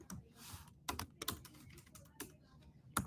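Fingers type on a computer keyboard in short irregular bursts of close, crisp key clicks with brief pauses between them, no speech.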